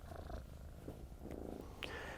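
A very playful young kitten purrs loudly and continuously up close, a steady rumbling motor with a few faint rustles.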